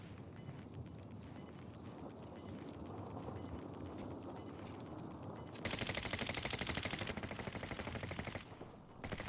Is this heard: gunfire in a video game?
yes